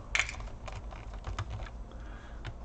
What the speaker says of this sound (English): we're gonna remove the keyboard first.